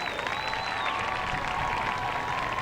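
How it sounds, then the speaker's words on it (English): A crowd applauds steadily at a 2007 high school homecoming ceremony on a football field, sustained clapping heard from a distance with a faint whistle-like tone above it. "let's have a nice round of applause for these lovely ladies and their escorts."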